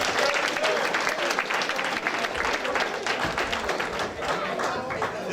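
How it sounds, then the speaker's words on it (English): A banquet audience claps loudly for junior boxing champion David Stevens, dense and continuous applause filling the room throughout, with crowd voices mixed in. "Let's clap it up, David Stevens."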